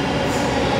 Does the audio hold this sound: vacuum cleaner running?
no